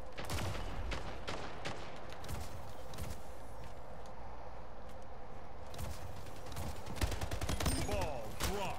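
Gunfire in the video game Splitgate, rapid bursts of shots and clattering impacts packed tightly over several seconds, loud and close, with game sound effects mixed in.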